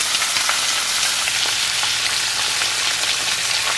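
Chicken and eggs frying in a pan, a dense, steady sizzle with fine crackling pops that stays loud and even throughout, with no voices.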